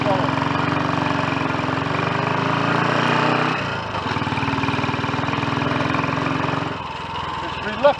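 A Royal Enfield Olympic 250 motorcycle engine runs steadily and fairly loud throughout, dipping briefly in pitch partway through as the bike slows and gears are changed down, with a rider's voice faintly over the engine.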